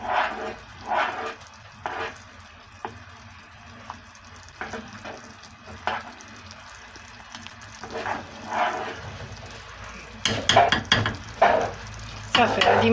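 Almonds being stirred into boiling glucose syrup for sablé cookies, with soft scraping and bubbling in a pot, uneven bursts of stirring and a louder clattering spell near the end.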